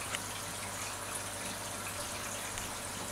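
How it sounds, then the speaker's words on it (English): Steady water rushing and splashing into filter socks in an aquarium sump beneath a reef community tank, a continuous close, even gush with a low hum throughout and no talk. "this is the where the water flows into the socks"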